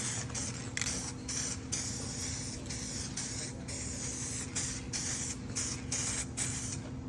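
A spray gun lays a final coat of paint on Foxbody Mustang interior parts in a series of hissing bursts, each a second or less, over a constant low compressor-like hum.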